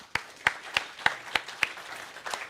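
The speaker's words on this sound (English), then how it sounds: "Thank you very much, and a warm round of applause." A few people clap at the end of a talk at a conference on democracy and social media, about eight distinct, evenly spaced claps, sparse and close, with no voices.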